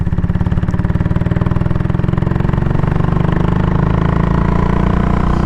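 A Royal Enfield Classic 500 motorcycle engine runs close by with a steady, rapid single-cylinder thump and a low, even drone throughout, with no voices.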